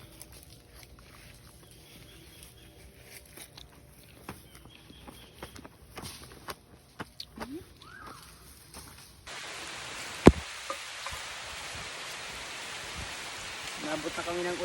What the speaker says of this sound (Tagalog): Nabot na kami ng ulan sa pag-aani ng niyog, kaya naman pahinga na.